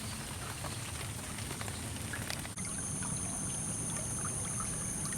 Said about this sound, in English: Alright, quit raining for a second.